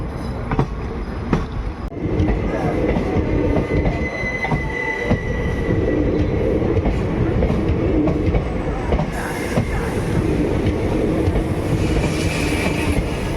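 The Bikaner–Delhi Sarai Rohilla SF Express (22471) rolls along the track with a steady, loud rumble of wheels and rail noise that continues unbroken from start to finish, with no voices.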